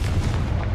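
The Confringo explosive fire spell from Hogwarts Legacy lands as a heavy, low, rumbling blast, loud and dense for the whole brief moment.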